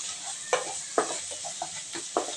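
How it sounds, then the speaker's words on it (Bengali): Cumin paste being stirred into spices frying in a pan for a Bengali beef and chana dal curry, with several distinct scraping strokes over a steady soft sizzle, close and alone. "জিরা বাটাগুলোকেও আমি সব মশলার সঙ্গে ভালোভাবে মিশিয়ে নিচ্ছি।"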